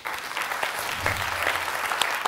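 A TV show studio audience breaks into sustained applause, a dense wash of clapping that holds steady throughout.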